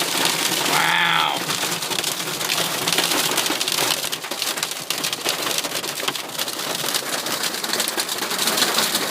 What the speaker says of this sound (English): That noise, ladies and gentlemen, that is hail,